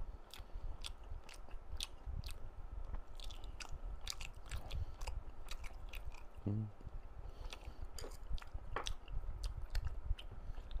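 Close, crisp crunching and wet chewing of fried chicken with black mayo sauce, eaten at home, in steady irregular bites for several seconds with no voices.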